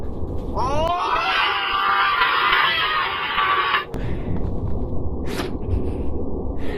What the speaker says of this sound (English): That was a real scream, by the way.